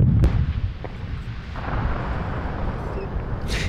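Ice-breaking blasting on the Pinega river near the village of Nizhnyaya Palenga in Arkhangelsk region: a sharp explosive blast up front, followed by a long rumbling roar of debris and a later burst.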